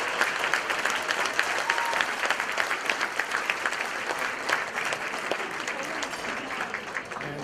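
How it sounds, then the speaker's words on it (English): Sustained, dense applause from a conference audience at a statewide social entrepreneurship event, cheering winners and contestants; steady and loud throughout. "let's give all of the winners and all of the contestants a big round of applause"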